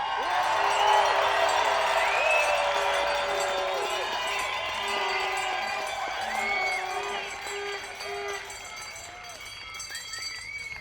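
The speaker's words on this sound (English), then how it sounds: "So please give these heroes the warmest Stanley Cup cheer." A live audience cheers and whoops in a sustained wave for honoured heroes at a Canadian democracy rally, the loud, dense crowd noise holding steady with scattered shouts throughout.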